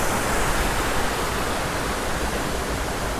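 A waterfall in Pittencrieff Park, Dunfermline, roars as a dense, steady wash of rushing water, close and loud throughout with no voices.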